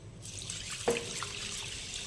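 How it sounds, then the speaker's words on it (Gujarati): Water runs steadily into a bowl as urad dal is washed for Surati locho, a soft continuous splashing stream with one small clink, close and fairly quiet. "જેને હવે આપણે પાણીથી સારી રીતે વોશ કરી લઈશું"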